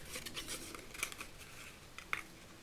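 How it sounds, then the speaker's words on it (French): Scissors snip through a stamped paper card design, a few quiet crisp cuts with light rustling of the card in between. "regardez découper, c'est pas vraiment intéressant"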